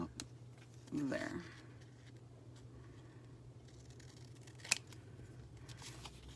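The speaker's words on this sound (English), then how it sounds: "I'm gonna cut this right about there." Scissors cut paper while a journal is being made, one brief crisp snip near the start and a sharper click later, faint and close, with quiet room noise in between.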